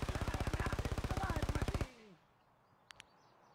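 A rapid, evenly spaced burst of automatic gunfire in a shooter video game runs loud for almost two seconds, then cuts off into near quiet broken by two short clicks.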